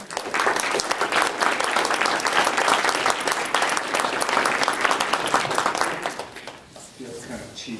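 An audience at an academic conference applauds after a poem reading, sustained close clapping that fades out near the end, followed by a moment of quieter room sound.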